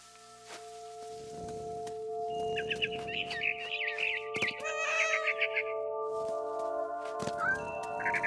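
A cat meows repeatedly in the video game What Remains of Edith Finch. The short, high, wavering calls sit over sustained tonal game music and a soft pattering ambience, and no one speaks.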